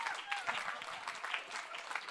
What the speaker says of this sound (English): let's all stand to our feet, and let's clap for these guys